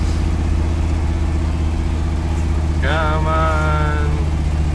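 A 1979 Chevrolet Camaro engine drones low and steady while the car drives in first gear. Someone speaks briefly over the engine noise partway through.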